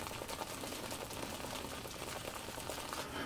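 Badger-hair shaving brush swirled briskly on a cake of shaving soap to load lather, a steady wet, crackling bristle scrub with a quick repeating rhythm, close and fairly quiet, no voices.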